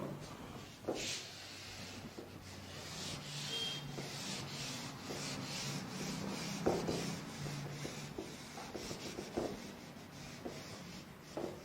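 Chalk or a duster rubbing writing off a classroom board during a trigonometry lesson, a soft continuous scrubbing with rhythmic strokes and occasional knocks, fairly quiet and with no talking.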